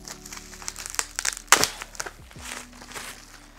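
Anime merchandise, an acrylic stand kit with screws, being unwrapped from bubble wrap packaging: close, irregular crinkling and rustling of plastic with a sharp crunch in the middle, no talking.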